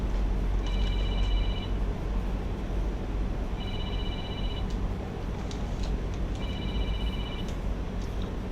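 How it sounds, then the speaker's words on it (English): A phone rings with an incoming call inside a small aircraft cockpit during touch-and-go practice, three repeated electronic trill bursts spaced evenly, moderately loud over a constant heavy engine drone. "I have a phone call coming in, but I don't recognize the number, so I'm not answering it."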